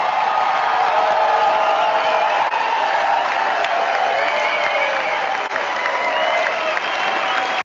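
A large CPAC audience applauds Trump, with loud, dense, sustained clapping and crowd noise rolling unbroken for the whole stretch, briefly dipping near the end.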